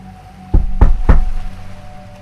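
Three heavy knocks on a door at night, evenly spaced and booming, close and loud, with no talking over them.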